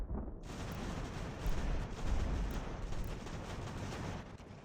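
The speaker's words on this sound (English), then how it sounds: "Oh, look how cool the cannons are." Cannon fire in the Ultimate General: American Revolution video game, a sustained rumbling barrage of booming shots and explosions, loud and dense throughout.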